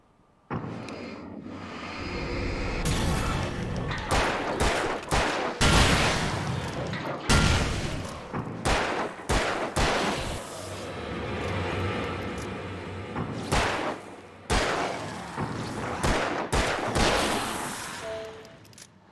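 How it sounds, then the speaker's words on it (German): Shotgun blasts ring out in the Alan Wake video game, a string of loud, sharp booming shots at uneven intervals with heavy reverberant tails, alone with no talk. "Schrotflinte."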